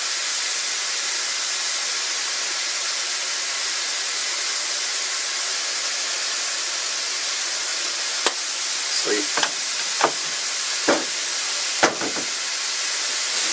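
Au jus for burger dips heating toward a boil in a home kitchen gives a steady loud hiss of sizzling, with a few sharp clinks and scrapes of a utensil near the end.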